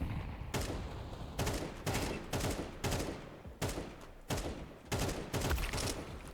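Gunfire in Counter-Strike 2 rings out as a series of loud, sharp volleys, roughly eight bursts spaced about half a second to a second apart, each a rapid cluster of close shots with brief gaps between.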